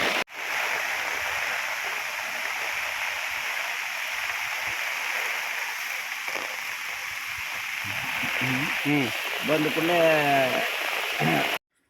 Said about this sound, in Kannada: ಮಳೆ ಅಂತೂ ಭಾಳ ಜೋರು ಬರತ್ತಿಲ್ಲೇ ಮಳೆ ಸ್ಪೀಡ್ ಬರತ್ತಿ